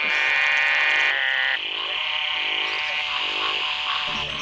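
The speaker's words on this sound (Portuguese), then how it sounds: "descansar os ouvidos com a orquestra dos sapos" A chorus of frogs croaks in overlapping, pulsing calls, loud and close, with a droning tone running underneath.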